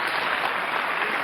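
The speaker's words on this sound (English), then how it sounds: "Applause." A comedy club crowd claps and cheers in a dense, steady burst of applause filling the whole moment, with no voice over it.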